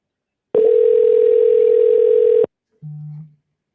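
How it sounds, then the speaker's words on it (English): A telephone on an outgoing call gives one long, steady electronic ringback tone. After a short gap a second, shorter and lower tone follows, both clear and close with no speech. "Can you guys hear when it rings, by the way?"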